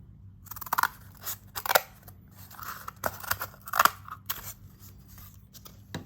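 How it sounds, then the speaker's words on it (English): Scissors cutting a piece of cardboard in half for a homemade game spinner: a series of crisp, close snips and crunchy slicing strokes in uneven bursts, with short pauses between cuts. "I'm going to start by cutting this in half."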